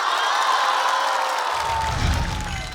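A stand-up comedy audience gives loud sustained applause and cheering, a dense wash of clapping and whoops that holds steady, then thins slightly toward the end.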